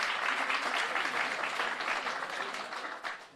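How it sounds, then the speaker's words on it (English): Steady audience applause at a live podcast production at a civics summit, a dense continuous wash of many hands clapping that fades slightly toward the end, with no talking over it. "yeah, you can clap for that."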